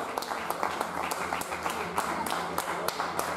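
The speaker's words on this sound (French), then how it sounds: "je vais vous demander de les applaudir bien fort" Steady audience applause for a live band with bassist, guitarist and singer at the Miss Beauté Franche-Comté 2019 pageant, continuous clapping from a crowd holding an even level throughout.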